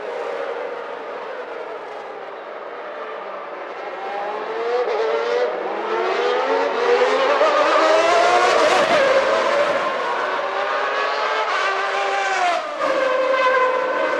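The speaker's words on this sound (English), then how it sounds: "you see Jean Alesi going through and over the gravel trap at the Rettifilio, creating an enormous cloud of dust" Formula 1 cars racing at Monza in 1991, including a Ferrari running over a gravel trap, give a continuous high-pitched engine whine that rises and swells in loudness around the middle before settling.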